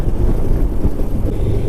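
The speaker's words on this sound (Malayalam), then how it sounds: "നല്ല കാറ്റുണ്ട് ഇവിടെയൊക്കെ" Strong wind buffets the microphone on a bridge near Darasuram in Kumbakonam, a loud, dense low rumble that holds throughout without pause.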